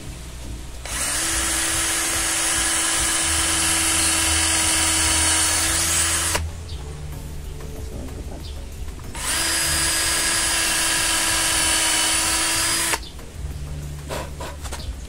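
An INGCO cordless drill whines loudly in two long bursts while drilling wood, each about six seconds, with a quieter pause between them, no talking.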